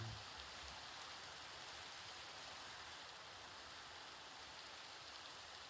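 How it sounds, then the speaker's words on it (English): Steady rainfall in the Minecraft survival game, a constant even hiss of falling rain throughout, moderately loud and unbroken, with no voices present. "It's raining, it's pouring."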